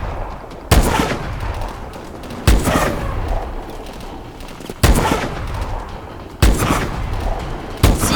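Gunfire in the Call of Duty Advanced Warfare campaign: sustained automatic shooting runs throughout, with four heavy, sharp blasts landing at roughly even intervals over the constant crackle.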